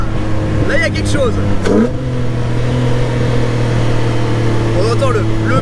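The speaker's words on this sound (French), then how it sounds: "On entend le bruit du moteur est démentiel." A Jannarelly Design-1 sports car's engine hums and rises in pitch as it accelerates at moderate speed, a steady drone with revving sweeps, while someone talks over it in French.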